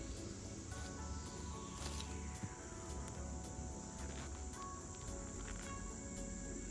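Honeybees at their hive make a dense, continuous insect hum close to the microphone, steady and unbroken, with faint high pulsing above the drone.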